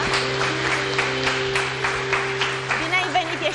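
A TV show studio audience applauds in a dense, continuous patter while a steady musical tone sounds beneath and a voice speaks over the clapping.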